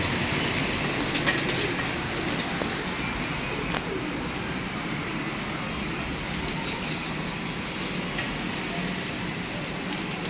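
Pigeons perched on a net coo softly against a constant rumbling background, with a few faint voices somewhere in the mix.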